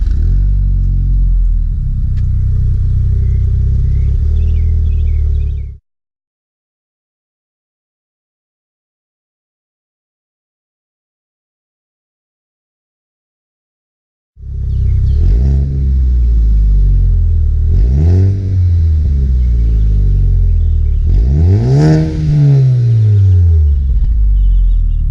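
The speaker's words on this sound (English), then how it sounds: "That's the factory exhaust. He's about to start it up" A Ford Focus ST with its factory exhaust idles with a deep rumble, cuts out into several seconds of silence, then starts again and revs a few times, rising and falling.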